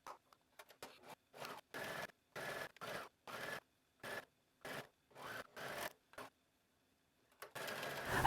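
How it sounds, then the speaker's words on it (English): A serger sews around a neckline seam in a series of short, rapid whirring bursts with brief gaps between them, ending in a longer steady run. The sound is faint and fairly close. "I'm going to serge across the bottom and all the way around the"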